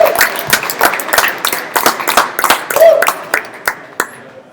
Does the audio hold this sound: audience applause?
yes